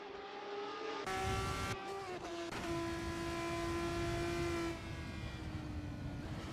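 Race cars roar around the Sepang circuit in Malaysia in a small-wheels championship racing video game, a steady, loud engine drone with the pitch stepping up and down through gear changes and no voices over it.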